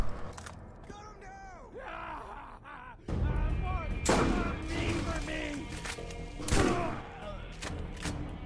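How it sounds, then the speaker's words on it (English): Sniper rifle shots ring out in the video game Borderlands, with a few heavy, booming reports standing out over continuous game sound and voices. "sniper rifle."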